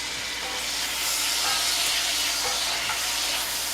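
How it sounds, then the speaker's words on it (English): Capers hit hot oil alongside a mushroom mixture in a pan for toasted ravioli, giving a steady, close sizzle and hiss that runs throughout with no talking. "Oh yeah, you hear them sizzling up?"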